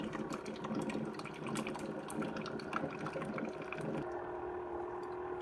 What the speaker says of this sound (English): It's going to finish brewing the rest of that vinegar through there.